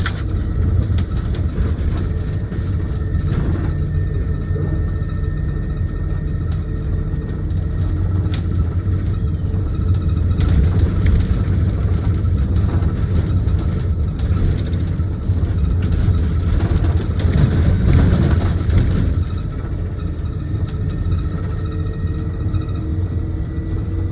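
An electric Thomas C-2 Safetyliner Jouley bus drives along with a steady, close low rumble of motor and road noise, swelling slightly mid-way as it shifts through its gears.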